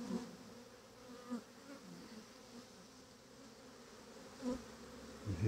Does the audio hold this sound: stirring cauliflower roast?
no